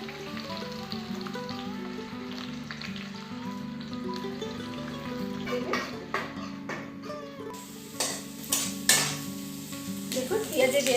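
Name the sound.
onions frying for birista (biryani) with stirring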